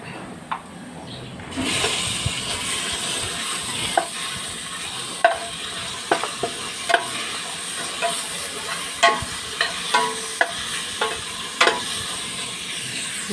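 Pork dropped into a pan of browned garlic and onion for a Bicolano-style squash sauté sets off a steady, close sizzle, with repeated sharp clicks and scrapes of a spoon stirring through the hissing oil.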